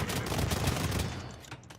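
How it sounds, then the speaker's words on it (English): A rapid volley of hand cannon gunfire from a medieval strategy video game, dense overlapping shots crackling loudly for under two seconds before trailing off, with no voices. "These aren't riflemen, they're hand cannons."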